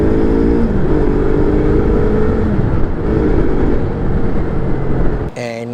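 A Yamaha MT-03 engine revs loudly and steadily under the throttle, droning with rising and falling pitch for several seconds, then cuts off abruptly at the end.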